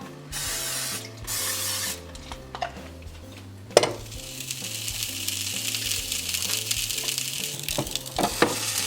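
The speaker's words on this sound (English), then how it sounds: "And this is so simple to make, just pop it onto my little grill." A homemade vegan black bean burger sizzles on a small grill, starting with a sharp hiss and a clink of cookware, then settling into a steady close frying crackle.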